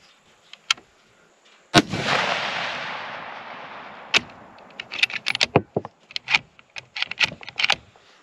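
Sharp 6.5 Creedmoor rifle shots during ammunition testing: one loud report with a long decaying echo, then a rapid string of many close, crisp cracks.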